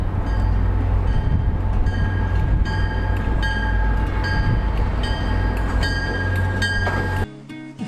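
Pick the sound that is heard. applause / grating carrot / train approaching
train approaching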